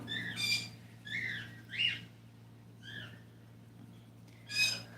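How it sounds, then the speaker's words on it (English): Pet birds chirp and whistle indoors in the background, several short rising calls spaced across the moment over a constant low hum, with no talking. "I do apologize if you hear my birds in the background."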